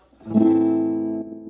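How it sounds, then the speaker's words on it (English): A single acoustic guitar chord strummed once with fingernails or thumb, ringing out clearly and slowly fading over about a second, with no voice. "That is a strum with my fingernails or the fleshy part of my thumb"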